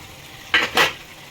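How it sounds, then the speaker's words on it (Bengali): A pan lid comes off a pot of snakehead fish curry cooking with chopped onion and green chili, making two quick metallic clinks and scrapes that stand out clearly against a quiet kitchen background. "এখন আমি ঢাকনাটা তুলে নেব।"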